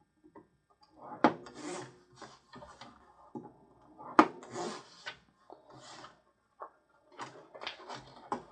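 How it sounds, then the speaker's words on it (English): Paper pieces for an envelope folio are scored at half-inch intervals with a tool on a scoring board, giving a series of close, scratchy rubbing strokes and small clicks in irregular rhythm. "We're going to score these at 1/2 inch on the 4 inch side."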